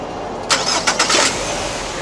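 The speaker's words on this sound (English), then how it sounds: "Now let's start the engine." A car engine cranking over during an air conditioning condenser leak repair, a few loud starter bursts before it catches and settles into a steady idle, heard close and alone.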